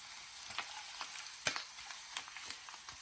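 Chilies sizzle in hot oil for a tempering to pour over raita, with a steady fine hiss broken by a few sharp crackles and pops, close and fairly quiet, no voices.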